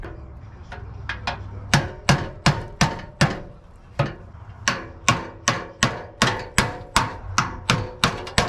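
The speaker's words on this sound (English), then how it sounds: "I'm going to use my chisel, and I'm just going to chisel through to try to separate this piece from the core support." A hammer drives a chisel through the metal of a 1992–95 Honda Civic radiator core support, giving about twenty sharp, ringing metallic strikes, close and loud, in bursts that settle into a steady rhythm.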